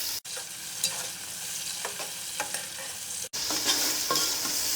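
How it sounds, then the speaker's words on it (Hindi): Tomatoes frying with golden onions in oil for pulao, a constant close sizzle with occasional stirring scrapes and clicks, broken by two brief cuts. "अब हम 2 अदद टमाटर लेंगे। टमाटर सॉफ्ट होने तक हम भून लेंगे।"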